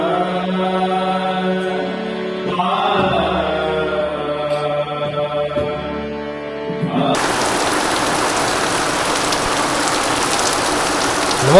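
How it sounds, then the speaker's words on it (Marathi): Rain falling in a Konkan village during Ganpati festival season arrives as a steady, dense hiss after about seven seconds of tonal music, continuing unbroken to the end. "मस्त पाऊस पडतो गावाकडे"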